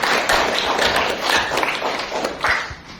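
Classroom of students clapping for a classmate, a dense patter of many hands at close range that continues without a break for several seconds.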